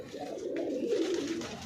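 A pigeon in a loft of nesting boxes gives a single low, throaty coo that rolls on for more than a second, close and clear, with no speech.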